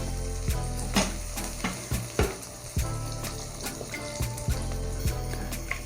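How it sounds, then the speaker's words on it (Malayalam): Four tablespoons of butter melting in a heated pan on the stove, giving a steady sizzle with repeated sharp clinks and scrapes of a utensil against the pan. "ഒരു പാൻ സ്റ്റൗവിൽ വെച്ച് ചൂടാകുമ്പോൾ അതിലേക്ക് ഒരു 4 ടേബിൾ സ്പൂൺ ബട്ടർ ഇട്ട് മെൽറ്റ് ചെയ്തെടുക്കാം"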